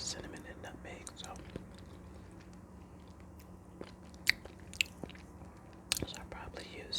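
Homemade sweet potato pie spiced with cinnamon, nutmeg and cloves is eaten close to the microphone in a hushed setting, with soft chewing, occasional sharper bites and crunches, and faint whispery mouth sounds.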